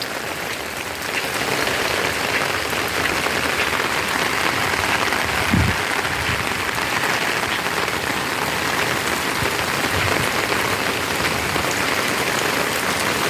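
Steady rain falls on a rainy day in a small town, a dense, even hiss that continues throughout with a couple of faint low thumps.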